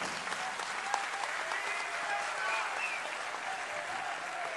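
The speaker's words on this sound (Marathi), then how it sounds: "या टाळ्या थांबत नाही आहेत." Audience applause after a speech at a pharmacists' and chemists' association gathering, sustained clapping from a crowd at a moderate distance, steady and unbroken for several seconds without any voice over it.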